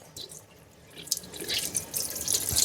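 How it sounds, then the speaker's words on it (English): Hot tap running into a caravan sink, a steady hiss of flowing water that swells louder over a couple of seconds with spluttery bursts as air and debris clear from the line. "Turn on the hot tap."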